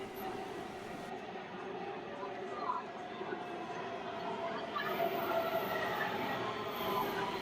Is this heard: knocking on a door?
no